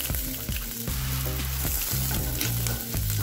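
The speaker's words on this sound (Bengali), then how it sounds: "পুরো ভাজা হবে না, জাস্ট কাঁচা গন্ধটা চলে যাবে, হালকা করে ভেজে নিয়েছি" Ingredients for shahi paneer are lightly fried in a pan with a loud, close, continuous sizzle, and repeated scraping stirs thud through the frying noise at a steady rhythm.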